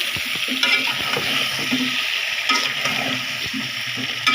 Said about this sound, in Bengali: এটা বেশি কষাবো না সামান্য একটু কষাবো